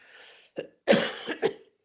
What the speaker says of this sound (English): just coughing a little bit there